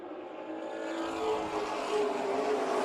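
Late model race cars at Colorado National Speedway, a pack of engines roaring and building steadily as they run around the oval, a continuous loud drone.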